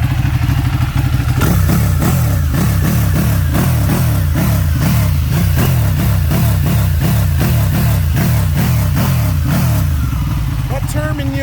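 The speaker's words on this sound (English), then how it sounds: "That Terminioni exhaust sounds amazing" A Ducati 1199R motorcycle fitted with a Termignoni exhaust, its engine loud and close in a deep, throbbing idle, then a long run of rapid rhythmic revs and blips that keep the pitch rising and falling, with a voice faintly underneath.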